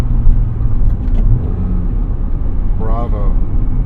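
A classic Honda EF-chassis car's engine hums in a steady low rumble close by, with a brief rising whine near the end and talk mixed over it.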